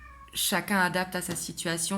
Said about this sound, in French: Excusez-moi pour mon chat, elle s'exprime.